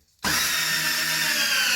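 A power drill drives a screw into wood, starting abruptly after a moment of silence and whirring steadily and loudly until the end.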